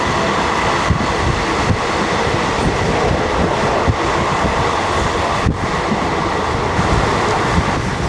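Coimbatore Express 16324, the former fast passenger, runs along the railway in Kerala, a steady loud rumble of wheels and carriages with faint clatter throughout and no voices.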